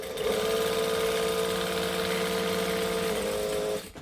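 A home sewing machine runs steadily for nearly four seconds while back stitching during garment construction, a continuous close, loud motor whir with a fast needle rhythm that cuts off abruptly at the end.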